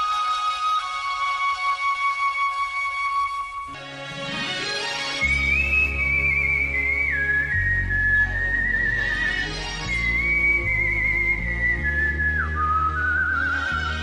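On a Chinese TV talent stage, a man whistles a medley of songs with clear, sustained melodic lines that slide between notes. An instrumental backing enters partway through and the whistling stays loud and close over it.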